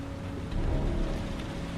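Steady rain pours down in the Heavy Rain video game, a dense, even hiss with a low rumbling undertone that swells slightly midway through, with no voices.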